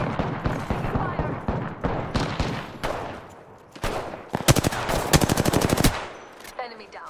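Gunfire in Apex Legends on PS4: repeated close bursts of rapid shots, a pause, then a long fast automatic volley, with faint game voice callouts around the firing.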